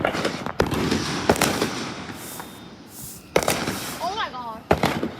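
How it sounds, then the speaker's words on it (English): Fireworks still going off after a show: several sharp bangs and crackles, some close and loud, others farther off, spaced irregularly over a steady background rumble, with voices briefly heard between bursts. "We have fireworks still going."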